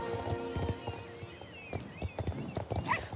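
Horse hooves trotting in the video game Star Stable Online, a quick regular clip-clop of several footfalls with a brief whinny near the end, no talking.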